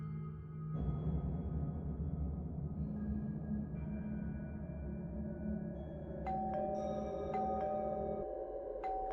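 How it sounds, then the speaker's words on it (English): A doorbell chimes late at night in a home, a few bright electronic tones ringing out over a low humming background near the end. "Who would be ringing my doorbell so late?"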